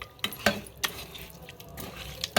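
Fish pieces being stirred and coated with turmeric, chili powder and ginger-garlic paste: a spoon scrapes and clinks against a metal bowl in several quick, close strokes, with soft wet mixing between them.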